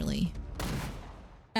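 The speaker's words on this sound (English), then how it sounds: "the sound of bullets grazing the bark of trees" Gunfire in a battlefield video game: broadband crack-like bursts of shots, with a voice grunting or speaking at the start and a sharp noisy burst near the end, fairly loud and close.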